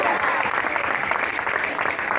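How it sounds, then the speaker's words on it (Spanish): Church congregation applauding loudly and steadily during an evangelical sermon, a dense continuous wash of clapping with faint voices mixed in, close and sustained throughout. "Dale un aplauso fuerte a Dios."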